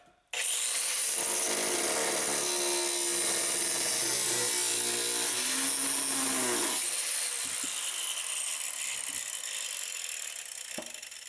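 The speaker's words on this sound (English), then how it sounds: "with a small grinder with a cut-off wheel on it, take and cut" A small grinder fitted with a cut-off wheel cuts into a John Deere tractor hood, giving a loud, continuous high-pitched whine close by that steadies, then winds down into faint scraping and clicks.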